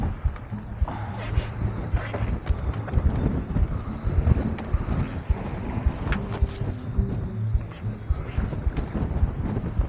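Steady wind buffets the microphone outdoors on a UK coast at night during sea fishing for bass, a constant rough rumble, with faint voices underneath.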